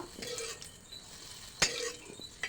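A spoon stirs a pot of curry with potato and fig in a home kitchen, giving soft scraping and a couple of sharp metallic clinks against the pot, quiet and close with no talk.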